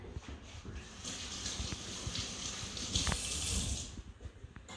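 Tap water runs steadily into a sink as hands are washed while cooking tamarind chutney, a continuous close hiss that swells louder midway before easing off, with no talking.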